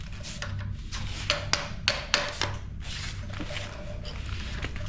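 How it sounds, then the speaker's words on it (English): A hammer striking a flathead screwdriver to loosen a nut on a KUGOO Wish 01 scooter, several sharp metallic taps in an uneven cluster over a steady background hum. "Then you gotta do the same thing with the hammer and the flathead."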